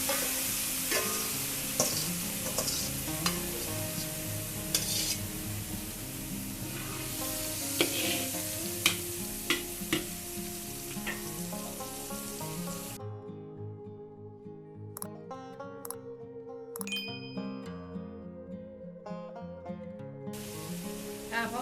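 Seasonings and egg stir-fried in a hot pan for curry powder shrimp: a steady close sizzle with repeated scraping and clattering of a utensil against the pan, quieter toward the end, with no talking.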